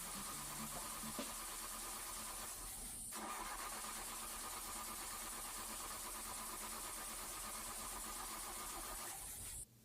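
A car engine cranking repeatedly as it struggles to start, with the starter whirring steadily, a brief catch partway through, then more grinding attempts before it stops; close and alone, with no talk.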